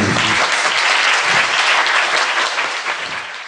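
Studio audience applause at a Korean talk show, a dense steady roar of clapping that holds loud for a few seconds before easing slightly at the end.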